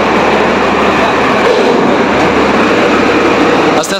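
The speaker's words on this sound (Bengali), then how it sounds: "এটা কিন্তু ইঞ্জিন রুম।" Ferry boat engine running in the engine room on a Kolkata river ferry, a steady loud low droning rumble with constant mechanical hum throughout, close and unbroken.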